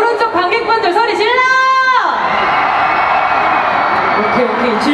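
A voice speaks briefly, then the right side of the audience at an outdoor Daejeon festival concert breaks into a loud, sustained roar of cheering and shouting.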